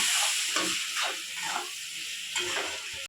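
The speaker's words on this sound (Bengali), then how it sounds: "এবার দেবো লঙ্কা গুঁড়ি, হলুদ গুঁড়ি আর নুন দিয়ে ভালো করে মশলাকে কষিয়ে নেব" A spice paste of ginger, garlic and onion with chili powder, turmeric and salt fries in a pan, a steady close hiss with soft scraping stirs and no voices.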